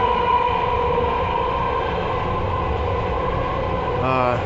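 Continuous rumbling roar of a train rolling along rails, heard from aboard, steady and loud throughout, with a brief squeal near the end.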